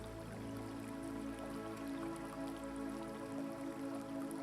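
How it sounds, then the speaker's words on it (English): Soft flowing water from a slow river at night murmurs quietly and continuously, a gentle hush with faint droplet-like patter beneath a calm tonal background. "Soon you hear it, the soft hush of water moving nearby."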